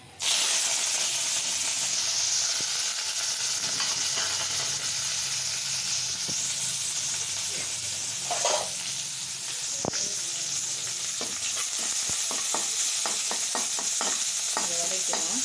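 Mustard seeds, dried red chilies, onion and curry leaves fry in hot oil for a vegetable poriyal, a loud continuous sizzle and hiss close by, with sporadic spatula scrapes and crackles toward the end.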